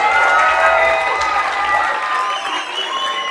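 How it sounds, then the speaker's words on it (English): An audience applauds and cheers for award winners called up at a festival prize-giving, sustained clapping with scattered shouts and voices mixed in throughout. "A round of applause"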